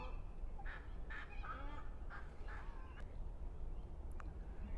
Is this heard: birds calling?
yes